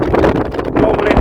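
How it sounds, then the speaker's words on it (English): Strong wind on an exposed hilltop buffets the microphone with loud, rumbling gusts that swell and dip in quick succession, filling the whole sound. "as you can hear, it's a bit windy"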